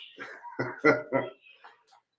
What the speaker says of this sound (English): Don't start, dogs.